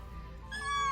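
A small foster kitten gives a single short, high meow, close and fairly loud, rising out of a quiet room hum.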